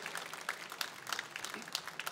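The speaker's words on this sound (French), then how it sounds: "j'aimerais bien qu'on l'applaudisse parce que c'est grâce à lui" An audience at a predator-fishing championship prize ceremony in France claps faintly, with light, scattered hand claps that come and go in a quiet room.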